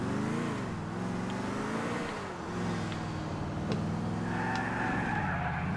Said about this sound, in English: Damn, some crazy drifting right now.